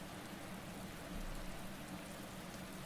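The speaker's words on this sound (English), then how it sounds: "of course it's raining" Rain falls in the Motorsport Manager racing game at Munich, a steady, even hiss of downpour with no distinct drops, fairly quiet and unbroken.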